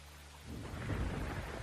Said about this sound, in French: Oh, il y a du tonnerre dans ma track.